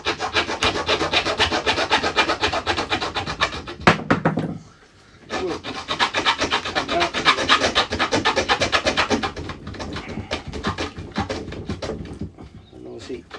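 A screwdriver levers apart a wooden model railway baseboard, giving a steady close grinding, rubbing scrape of wood that runs almost continuously with one brief pause.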